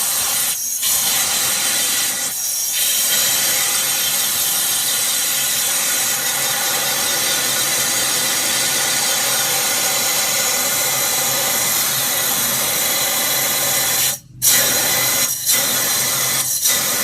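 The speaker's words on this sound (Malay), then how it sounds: "kita akan tembak dengan air gun" Compressed-air gun blasting through the coolant hoses of a Lancer during a cooling system flush, a loud, continuous hissing rush with a few brief breaks and pauses, close by.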